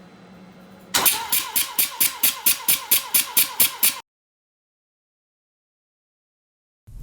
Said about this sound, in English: the result of what it looks like to use the Rotary Compression Tester on 3 different rotary engines